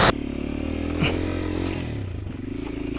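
A motorcycle engine drones steadily under load climbing uphill, a low continuous rumble with faint rattling, close by and without talk.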